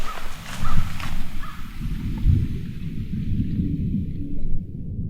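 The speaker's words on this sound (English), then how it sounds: "Just heard some thunder." A low, rolling rumble of distant thunder over a steady wash of rain, swelling and fading across several seconds.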